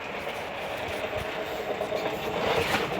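A 1954 Willys Jeep engine running in low crawling gear, a steady, rough mechanical drone with a faint rhythmic knock, moderately loud and unbroken throughout.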